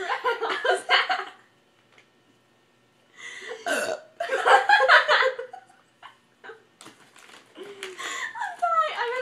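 Person burping repeatedly, several loud close guttural belches in bursts with pauses between, mixed with laughter and chatter.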